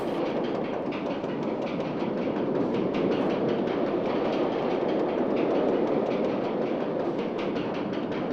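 A roller coaster train in RollerCoaster Tycoon 2 rolls steadily through a half loop, a continuous loud rumble with rapid rhythmic clattering of wheels on track throughout.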